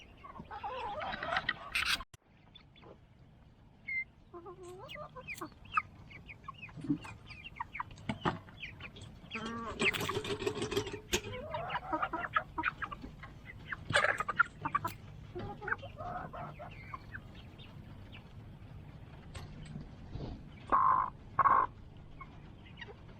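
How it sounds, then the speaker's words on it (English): Chickens cluck and squawk in scattered bursts across a quiet barnyard, some calls near and sharp, others softer, with brief louder flurries toward the end. "The chickens are making a big ruckus right now"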